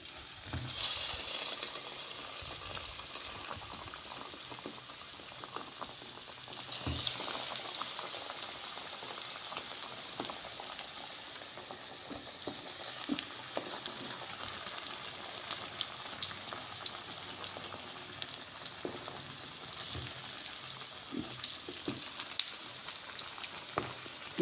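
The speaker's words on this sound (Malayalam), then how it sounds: "എന്നിട്ട് എണ്ണ ചൂടായിട്ടുണ്ട്. നമുക്ക് ഓരോന്ന് പതുക്കനെ എണ്ണയിലേക്കിട്ട് പൊരിച്ചെടുക്കാം." Batter-coated chicken pieces deep-frying in hot oil, a faint, continuous bubbling sizzle that crackles like light rain and rises and falls a little, with no one talking.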